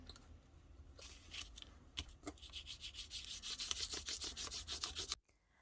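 Rubbing across tissue paper laid over a rubber stamp makes close, dry, scratchy strokes, first sparse and then a quick steady back-and-forth, ending abruptly.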